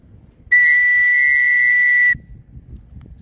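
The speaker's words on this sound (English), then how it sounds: "It also comes with a whistle. Let's see, whistle test." A small whistle packaged with a knife is blown once in a loud, piercing tone lasting about a second and a half, with quiet room rustling before and after.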